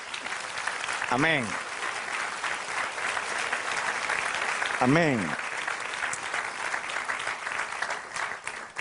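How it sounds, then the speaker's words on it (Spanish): A congregation claps steadily throughout at a worship service, a dense wash of applause, while a voice twice calls out a short word over it. "Dale un aplauso al Señor."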